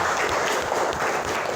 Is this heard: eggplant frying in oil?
no